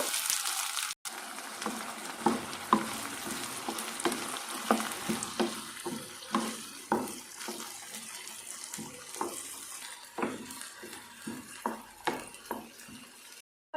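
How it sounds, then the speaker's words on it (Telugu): Masala paste sizzles as it fries with onions in oil, with a steady loud crackle throughout and repeated sharp clicks and scrapes from stirring, no voices. "మసాలా ముద్ద మొత్తం ఇందులో యాడ్ చేసేసుకుంటున్నాను"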